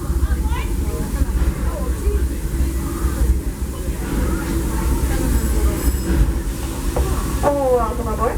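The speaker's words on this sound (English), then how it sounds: "Welcome aboard the Disneyland Railroad." Disneyland Railroad excursion train led by steam locomotive Fred Gurley No. 3, a loud rolling rumble of wheels on track with squealing and clatter, while voices talk over the ride.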